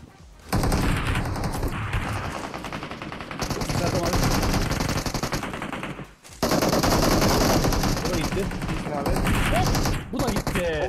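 Rapid automatic gunfire from PUBG Mobile, loud and sustained in long bursts with brief pauses, with excited voices of players talking over the shooting.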